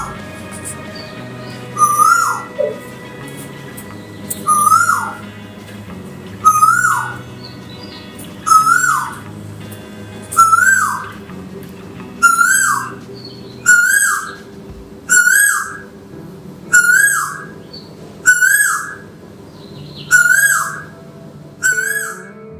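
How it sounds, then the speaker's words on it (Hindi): An Asian koel calls repeatedly across the Aravalli hills near Bhangarh Fort, a clear rising whistled note repeated about a dozen times at steady intervals, growing louder and echoing over a low background hum. "सुनिए अरावली की वादियों में गूंजती उस कोयल की प्यारी आवाज़"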